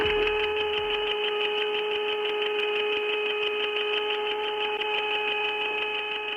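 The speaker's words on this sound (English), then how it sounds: "they all started hearing a strange, high-pitched whistling sound." A strange, steady high-pitched whistle coming through astronauts' headsets, with several sustained tones layered over a constant hiss and no talk.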